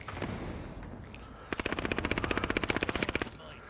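Video game gunfire, a single shot followed by a long rapid automatic burst of evenly spaced cracks, loud and close over faint background noise.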